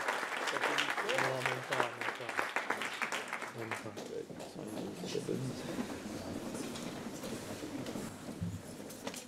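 A church congregation applauds to acclaim the Lord during a worship evening, steady dense clapping filling the space, with a voice speaking over it at the start.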